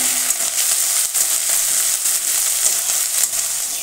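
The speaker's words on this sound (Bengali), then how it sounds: "এই হাফ চামচ মতো আদা বাটা, ছোটো চামচে 1 চামচ জিরে দিয়ে আমি একটু ভেজে নেব" Ginger paste and cumin seeds sizzle and crackle in hot oil in a pan, a loud, continuous frying hiss with small pops throughout.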